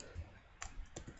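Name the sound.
typing on a computer keyboard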